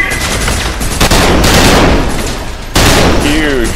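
A machine gun fires in the first-person shooter Trepang2, loud dense bursts of rapid gunfire that briefly pause midway and resume, with a voice talking faintly underneath.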